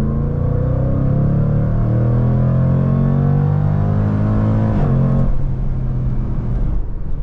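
A 2024 Jaguar F-PACE SVR V8 roars under full throttle in S mode, its pitch rising hard through the revs before dropping with a shift, then carrying on as a loud, close, continuous engine note.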